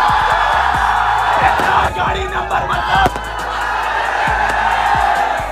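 Crowd at a motorbike rider meetup in Yamunanagar, Haryana, an outdoor ground packed with people, giving a loud, dense murmur with shouts and whoops rising through it while someone talks near the microphone.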